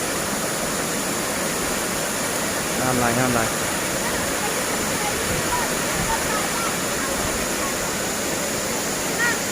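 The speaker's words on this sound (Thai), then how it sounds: "น้ำตกตาดพอดี" Tad waterfall near Xepon in Savannakhet, Laos, roars as a steady, loud, unbroken rush of falling water, while someone speaks over it briefly.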